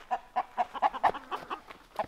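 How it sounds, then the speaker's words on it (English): A rooster on a backyard property gives a short run of clucking calls, about eight quick repeated notes, moderately near with a little background noise. "tell me that's another rooster right there"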